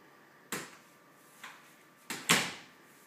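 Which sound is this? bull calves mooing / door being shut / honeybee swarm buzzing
door being shut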